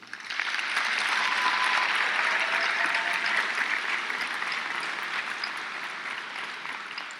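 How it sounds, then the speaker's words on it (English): A crowd at a graduate programs commencement ceremony applauds, a broad wash of clapping that swells quickly and sustains evenly for several seconds, tapering slightly toward the end. "I'd like to have a round of applause for those"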